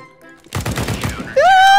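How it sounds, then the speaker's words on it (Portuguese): A sniper rifle fires in a Counter-Strike match, one sharp, loud shot with a quick decaying tail, followed by a tonal in-game effect sound. "Ah, acertou um tiro, Robin, mas só que não acabou matando."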